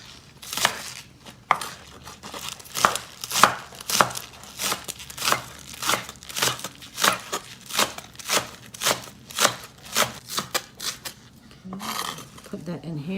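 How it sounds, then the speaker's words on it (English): A knife chops green onions on a cutting board in a steady series of sharp, close taps, about twenty strokes with brief pauses, growing more evenly spaced, with a faint voice near the end. "We're gonna cut our green onions."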